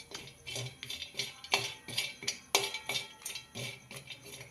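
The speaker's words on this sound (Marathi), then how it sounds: "सर्वप्रथम मी खोबरं चांगलं भाजून घेते।" Grated coconut is dry-roasted and stirred in a pan, a steady run of light clinks and scrapes from a spoon against the metal, close and fairly quiet, with no talk.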